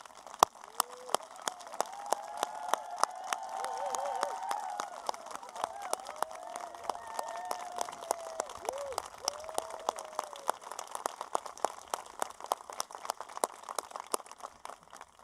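An audience at a middle school eighth grade recognition ceremony applauds a retiring principal with faint, scattered claps spread across a quiet hall, under soft murmuring voices.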